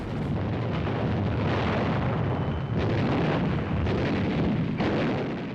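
Heavy battlefield gunfire and artillery from Japanese positions dug into tunnels, caves and bunkers in the Pacific war, a dense continuous roar of blasts and rumbling booms at constant loud level throughout.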